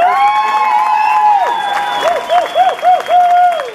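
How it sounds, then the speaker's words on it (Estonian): Applause from the audience at a school song contest, with loud whooping voices rising and falling over the clapping in repeated calls. "Teeme neile suure aplausi."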